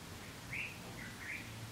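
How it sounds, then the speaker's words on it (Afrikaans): Birds chirping outdoors, a few faint, brief high calls over quiet background hiss. "As ons stil word, hoor ons die voëls om ons."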